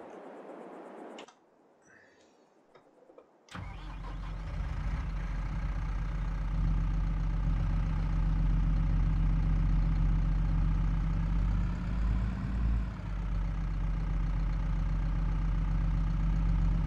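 Fendt Vario 314 tractor with 142 hp in Farming Simulator 22, a steady deep engine drone running continuously and fairly loud after a brief muffled start.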